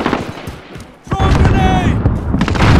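A grenade blast in Call of Duty: Modern Warfare, preceded by quieter gunfire and then a sudden loud boom that rolls on under a shouted voice.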